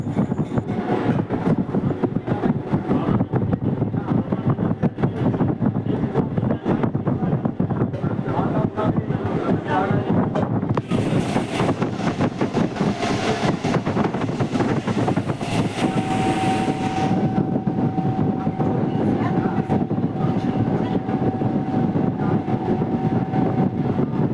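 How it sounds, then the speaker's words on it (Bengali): A Haldia-Howrah galloping local train running at speed, heard from on board as a loud, continuous rumble and rattle mixed with wind buffeting the microphone, steady throughout. "হলদিয়া হাওড়া গ্যালোপিন লোকাল ট্রেনটা খুব দ্রুত গতিতে ছুটছে"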